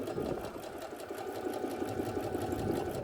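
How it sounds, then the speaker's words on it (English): A sewing machine chain stitching a quilt seam at a scant quarter inch, running at a fast, steady rattling pace throughout, close and loud, with no talk. "I'm going to chain stitch down this seam"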